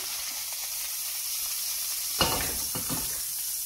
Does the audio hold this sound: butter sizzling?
yes